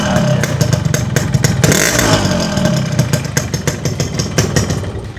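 A modified Yamaha RX-King motorcycle exhaust idles at low RPM with a steady low rumble and light mechanical clatter, close and loud, with a brief blip of throttle partway through.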